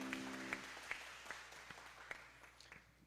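A small church congregation at a Friday late-night prayer service claps, with faint, sparse claps that fade out under a low hum and a few brief tonal chirps.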